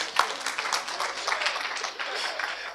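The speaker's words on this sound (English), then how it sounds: "So, thank you for the applause" Audience applause fills a conference hall after a talk at the wroc_love.rb 2017 Ruby conference: steady, dense clapping at moderate volume throughout, with no voices over it.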